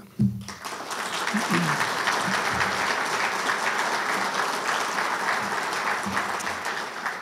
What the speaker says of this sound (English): I just want to give them a special round of applause